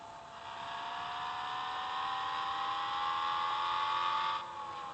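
A car accelerating in Public Transport Simulator holds a steady engine whine that climbs gradually in pitch at moderate volume, then drops off abruptly near the end.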